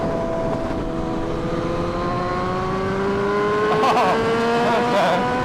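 Porsche GT4 RS passing on a bumpy road, its engine tone climbing steadily in pitch as it accelerates, fairly close and loud, heard over the rider's own motorcycle running underneath.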